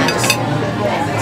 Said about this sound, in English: So I'm gonna first cut open the filet mignon